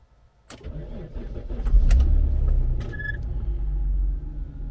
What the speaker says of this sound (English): So I just proceed to start the car up.